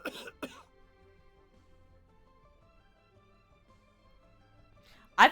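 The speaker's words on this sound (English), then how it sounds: "it sounds like he's coughing in a room there" Character coughing in a room in the video game Genshin Impact, a few harsh coughs and throat clearing at the start and again at the end, with a quiet background between.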